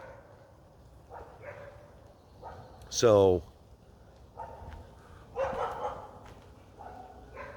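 Dogs bark in a few short bursts at a middle distance outdoors, mixed with a brief whistling sweep, while a person speaks quietly nearby.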